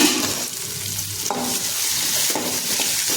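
Sliced okra frying in oil in a pan for an egg stir-fry, a steady loud sizzle with scraping stirring strokes of a spatula, close and without talk.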